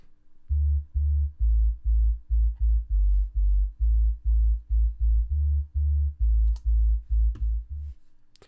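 Deep reggae dancehall bassline, controlled by a multi-band compressor, plays alone as a run of short, even, punchy low notes in a steady rhythm, loud and clean with nothing else playing.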